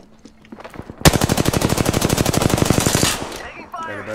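Hammerpoint pistol fire in a battle royale game unloads in a rapid burst of about two seconds, loud and near, with evenly spaced shots, preceded by faint game sounds and followed by quieter effects.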